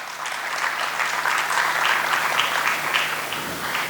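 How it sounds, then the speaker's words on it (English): A seated audience claps steadily in a conference session, welcoming a panel moderator; dense, even applause fills the room from start to finish with no voices on top. "Can I get a big round of applause for Sir?"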